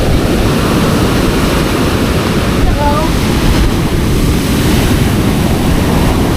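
Big waves crash against houses along the shore, a dense continuous roar of surf and wind close by, with a voice faintly audible beneath it.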